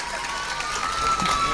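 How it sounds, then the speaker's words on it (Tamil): Crowd applause for Father Britto at a Villianur Madha Shrine CD release event, a steady dense wash of clapping sustained throughout without a break. "ஃபாதர் பிரிட்டோ அவருக்கு ரொம்ப ரொம்ப வேகமாக கொஞ்சம் ஜோராக கைத்தட்டுங்க."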